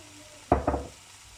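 Potatoes with salt and spices being stirred in a pan: two quick scraping strokes close together, fairly loud against a quiet background.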